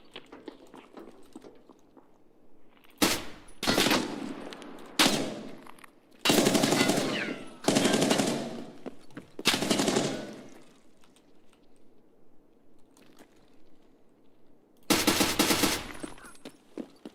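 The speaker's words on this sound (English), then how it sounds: "He can just mag dump that RPD into my cover" An RPD light machine gun in Escape from Tarkov fires long full-auto bursts, about seven sharp rattling volleys spaced by quiet gaps, loud and close, with no speech.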